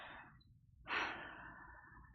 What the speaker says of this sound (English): Be conscious of breathing in